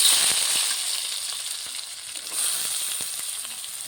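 Chopped onion and garlic fry in hot oil for a Bengali egg curry, giving a continuous close crackling sizzle with small pops, no talking.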